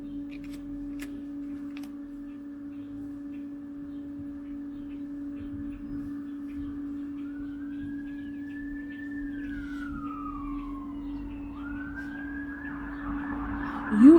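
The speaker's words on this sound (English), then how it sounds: "both of you like had to stop for a minute because of the police sirens" Police sirens pass outside, a faint wailing tone rising and falling several times over a steady background hum, growing slightly louder toward the end.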